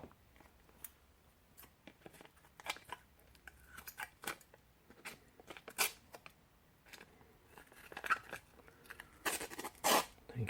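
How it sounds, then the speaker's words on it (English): Scissors snip through masking tape in a run of sharp, irregular clicks and crunches, close and fairly quiet, with small handling rustles between cuts and no voices. "I think even Ned Flanders would get annoyed cutting masking tape with these scissors."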